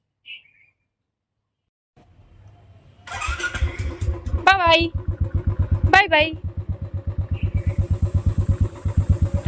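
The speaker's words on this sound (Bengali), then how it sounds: "ওই যে বাইক বেরিয়ে গেছে" A motorcycle engine cranks and starts, then settles into a close, steady, rhythmic thumping idle that grows a little louder. People talk over it, and short whistle-like tones appear during the start.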